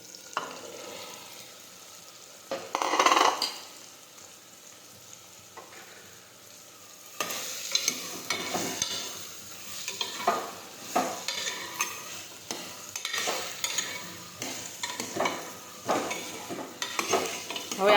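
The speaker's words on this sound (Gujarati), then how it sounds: "હવે આપણે સમારેલા તુરિયા નાખી દઈશું." Chopped ridge gourd sizzling in hot oil in a pan, with a spoon stirring and scraping through it in repeated strokes, close by, a soft hiss underneath and louder bursts of stirring later on, with no voices.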